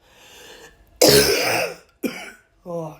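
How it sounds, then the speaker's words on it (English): A person with an illness coughs and clears their throat: one soft rasp, then a loud harsh cough burst, followed by two shorter throaty coughs, close and alone without talking. "talking's making me cough more."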